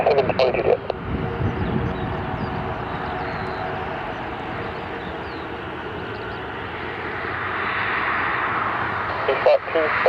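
A Ryanair Boeing 737 or Thomas Cook Airbus A320 airliner taking off at East Midlands Airport in the UK: a steady, broad jet engine roar lasting throughout, swelling slightly toward the end, heard from a distance outdoors with faint radio chatter.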